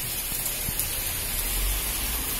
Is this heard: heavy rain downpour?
yes